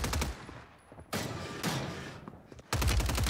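Bursts of AK-47 automatic fire in the video game Warzone 3 come in three rapid volleys separated by short pauses, close and loud, with faint game sounds between them.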